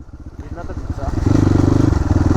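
A motorcycle engine putters and rises to a steady, throbbing idle close by, with a voice speaking briefly at the start.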